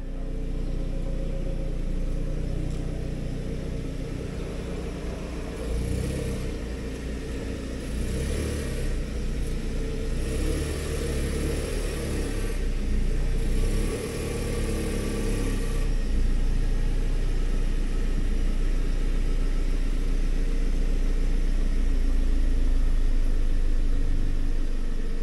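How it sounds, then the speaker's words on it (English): Car engine idling and rumbling steadily while the car is backed in, with a few soft surges in revs partway through and constant low drone throughout. "So we're gonna go back the car in"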